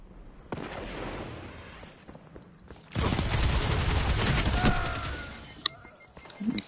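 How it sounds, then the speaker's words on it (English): Machine gun fire in Destiny 2, a quieter stretch of shooting followed by a loud, dense run of rapid automatic bursts and impacts, ending with a few sharp shots. "Oh, machine gun, of course."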